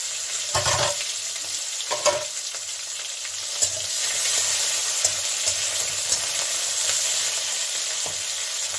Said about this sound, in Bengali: এখন আমি ফোড়ন দিচ্ছি জিরা, একটা তেজপাতা, আর দিয়ে দিচ্ছি এখানে